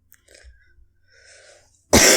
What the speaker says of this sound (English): That cough is not Corona.